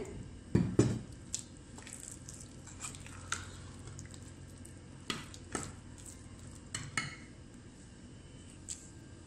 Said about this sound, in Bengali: এখন আমি এটা ঘুলতে থাকবো